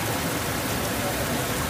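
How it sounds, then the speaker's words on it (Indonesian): Heavy rain driven by strong wind at Pangumbahan Beach makes a dense, continuous hiss and roar that fills the short stretch without a break. "hujan deras disertai angin kencang menerpa petualangan ini"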